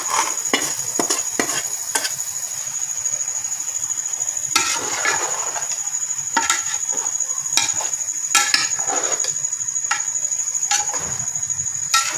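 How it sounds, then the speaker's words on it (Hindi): A spoon scrapes and stirs fried khoya through rice in a cooking pot, giving repeated clanks and rustling strokes over a soft steady sizzle, with a thin high steady tone running underneath. "हम इसमें एक खोया डालेंगे जो हमने फ्राई किया है।"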